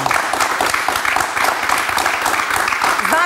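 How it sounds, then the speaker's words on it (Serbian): A studio audience breaks into loud, sustained applause, dense clapping filling the room without pause, with a voice briefly heard near the end. "Aplauz jedan veliki."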